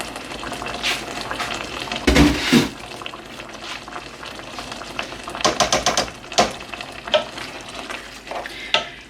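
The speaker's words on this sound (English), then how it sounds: "Just going to give it a little bit longer just to simmer away" Chilli con carne simmers in a pan, a continuous bubbling sizzle broken by irregular scraping stirs and clinks of a utensil, close and moderately loud, with no voices.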